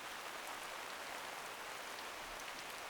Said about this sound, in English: the rain set in again, and we knew we had a really wet night ahead of us